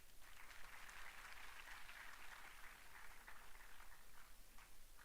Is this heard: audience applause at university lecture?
yes